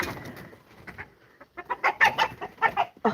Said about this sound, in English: in the background, we have chicken drama